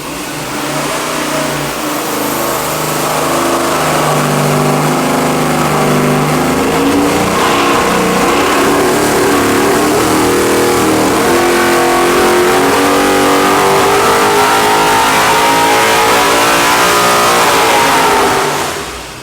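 A 700HP 441 cubic inch LS engine with 13.25:1 compression pulled to 7,000 RPM on a dyno: a loud, close, continuous roar that climbs steadily in pitch across the whole run before dropping off at the very end.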